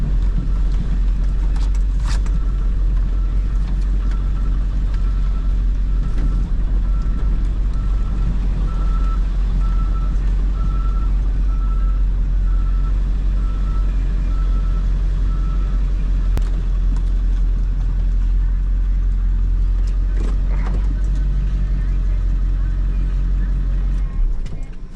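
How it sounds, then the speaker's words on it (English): Truck driving through the middle of a forest to a work site, a loud continuous engine rumble throughout with a steady series of reversing beeps in the middle stretch, occasional knocks and clanks, and someone talking over it. "Who would think you could drive a truck through the middle of the forest?"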